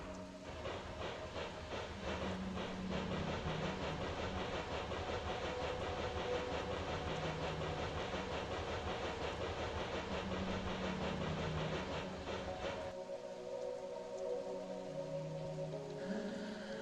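A train rides on rails in the video game OFF, a steady rhythmic clatter with hissing over a low rumble, then the rolling abruptly thins into a quieter hum near the end.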